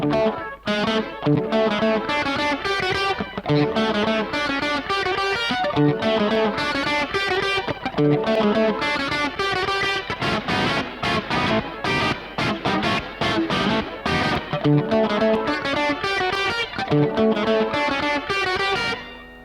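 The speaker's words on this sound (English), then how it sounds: "like a super pitch shifted short slap, but more like a reverb slap than a delay slap" An electric guitar is played through a Kemper Profiler with a pitch-shifted short slap delay. The chords and notes sound distorted and heavily effected, with rhythmic repeating attacks and shimmering pitched echoes that stay loud and dense the whole way through.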